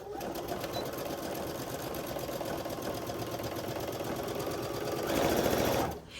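A sewing machine runs steadily while stitching quilt pieces together with a 2.5 inch stitch, a continuous close whirring rhythm that speeds up slightly near the end before stopping abruptly.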